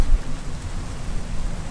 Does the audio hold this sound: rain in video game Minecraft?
yes